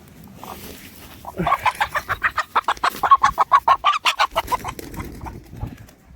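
A rapid, rhythmic run of loud clucks from chickens and roosters on a small hobby farm, about twenty sharp calls in a row, close by, trailing off into quieter rustling.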